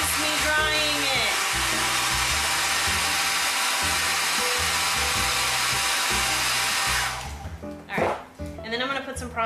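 Hair dryer blowing steadily and loudly on a latex Klingon forehead prosthetic, a constant roar that cuts off near the end as a voice speaks.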